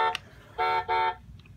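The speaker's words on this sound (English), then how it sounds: "Okay, the horn." A rare Road Rippers Dodge Ram truck sounds its horn: two short, bright electronic honks in quick succession, preceded by a tiny click-like beep, close and clear in a quiet room.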